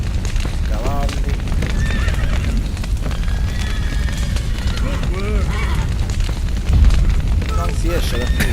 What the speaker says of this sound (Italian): Cavalli.